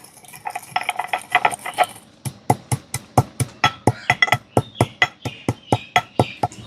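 Cumin and coriander seeds being pounded in a mortar and pestle, first some rapid grinding scrapes, then a steady run of about twenty sharp metallic thuds in an even rhythm, close and clear, with no talk.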